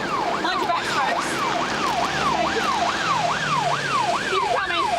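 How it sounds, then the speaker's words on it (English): An ambulance siren wails in a steady rising-and-falling cycle, roughly once per half second, loud and continuous over a constant drone of traffic and street noise at a police incident scene. "Look, the ambulance is here."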